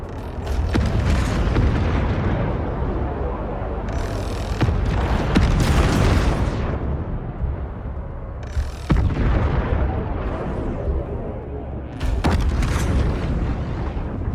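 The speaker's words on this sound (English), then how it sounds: "Hull defense guns are active and engaging targets." Mothership hull defense guns firing in a Homeworld 3 cutscene, repeated heavy booming shots and blasts in irregular bursts, loud and continuous over about fourteen seconds.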